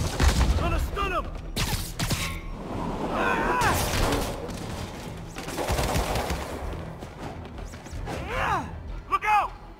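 Rapid bursts of gunfire and bullet impacts in the Marvel's Spider-Man video game, loud and clustered with crashes and whooshes, while game voices shout over the shooting.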